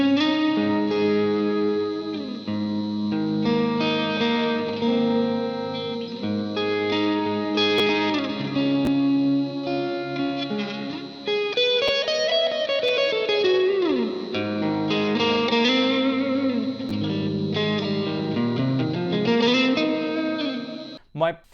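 Electric guitar played through a Walrus Audio pedal on a pedalboard, producing sustained ambient tones with chorus, delay and reverb; layered swelling notes ring continuously and loud, with no talking.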